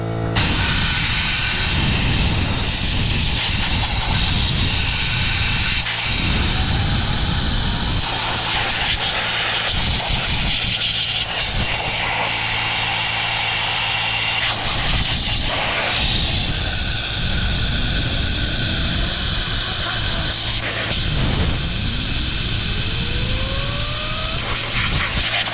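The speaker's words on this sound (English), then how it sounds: "compressor turns on. You get these fans moving really well." An air compressor blasts air across the fan blades of a wood stove insert blower, producing a steady loud roaring hiss with whirring throughout and no speech.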